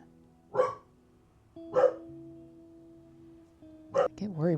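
Three separate dog barks with pauses between them, the last trailing into a higher yelp, heard nearby over a faint steady tone.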